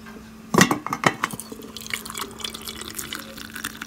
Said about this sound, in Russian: и заливаем кипятком.